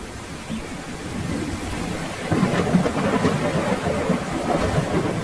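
Heavy rain hisses steadily in a cartoon storm, and low thunder swells in around the midpoint and rumbles on beneath the downpour.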